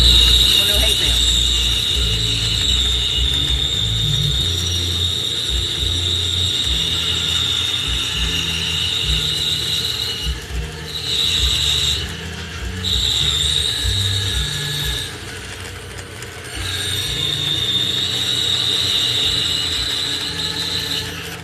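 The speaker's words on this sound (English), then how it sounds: "Now you can hear this saw kind of whine, that little, or scream, whatever you want to call it." A saw whines and screams while cutting a drunken-pattern wooden cutting board: a sustained high-pitched tonal wail that breaks off briefly a couple of times and resumes, over a rumbling mechanical drone, loud and close throughout.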